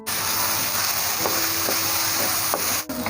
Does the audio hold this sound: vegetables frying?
yes